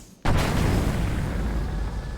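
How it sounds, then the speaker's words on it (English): Splatoon 3 boss blowing up after being defeated: a sudden loud boom that bursts in after a quiet instant and rolls on as a heavy, sustained rumbling roar. "Really dramatic explosion."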